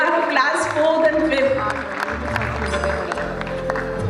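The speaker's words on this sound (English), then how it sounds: "I think children should be encouraged by giving a big round of applause" Applause at a school annual function for young prize-winning pupils, steady clapping from the audience lasting the whole moment, with voices and a low hum under it.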